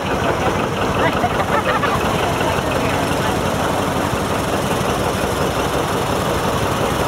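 A tractor engine idles steadily with a low, rough knocking rumble, continuous and fairly loud throughout, with faint background chatter mixed in.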